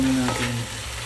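Patola and sitaw sautéed with salt and chicken powder are stirred in a hot pan, giving a loud continuous sizzle with a short low hum and soft stirring movement.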